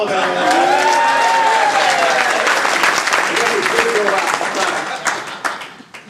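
Audience applause at a 2011 community salute awards ceremony fills the room loudly with dense clapping, while a voice calls out over it and the clapping tapers off toward the end.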